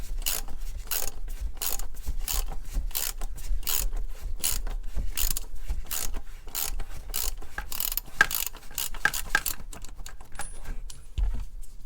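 The oil filter housing on a van is unscrewed anti-clockwise with a ratchet, giving rapid, close clicking bursts in an uneven rhythm, separated by short pauses and fading near the end.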